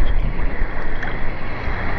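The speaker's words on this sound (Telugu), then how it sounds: "వచ్చేసింది మన బోటు దగ్గరికి వచ్చాం" A boat pushes across open water near a beach hidden behind hills, giving a continuous rushing wash with wind buffeting the microphone and no voices.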